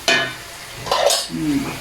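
A nasi kerabu spice paste sizzles and spatters in a hot pan as it is stir-fried, with a few short scraping strokes close by.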